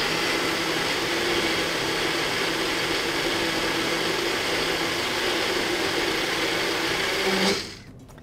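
A blender purees raspberries in a loud, continuous whir that holds steady for several seconds, then cuts off abruptly near the end.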